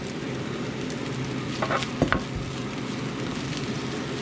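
Plain brown rice is tipped into a frying pan with bacon, a steady sizzle with a few brief scraping and pattering bursts near the middle, close and moderately loud.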